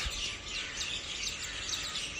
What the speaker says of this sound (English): As you can hear, there are flights of parrots, flight after flight of them, passing up above.